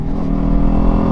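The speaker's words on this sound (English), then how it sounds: "we choose to ride motorcycle." Motorcycle engine running while riding, a loud, close, steady rumble with a throbbing low growl throughout the short moment and no talking.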